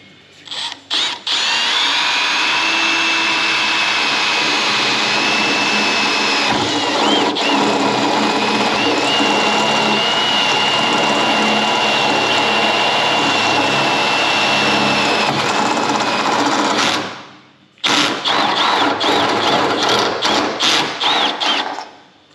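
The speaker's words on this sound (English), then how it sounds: "So I'll just drill these quickly." A power drill whirs loudly and continuously while holes are drilled in an MGB roadster body, with a brief pause near the end before several short bursts follow.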